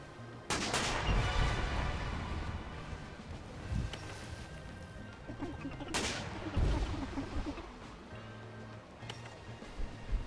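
Heavy ship cannon blasts in the sailing game Sail Forth, a few loud booming shots spaced several seconds apart, each with a rumbling tail over a low background.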